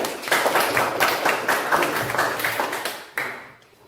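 Pupils in a classroom lesson clap in a short, uneven burst of hand claps. The clapping fades out in the final half second.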